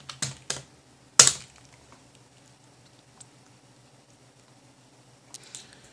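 A few sharp key clacks on a modern Packard Bell computer keyboard, one louder strike followed by a quiet gap and a brief cluster of taps at the end.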